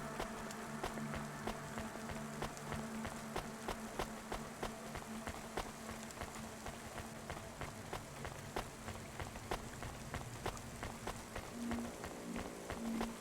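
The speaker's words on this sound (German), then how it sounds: "Ihre Schritte machen so einen coolen Beat." Footsteps of a character in the video game Cloudpunk, a steady rhythmic run of quick soft steps throughout, with rain-like ambient noise and a low game hum underneath.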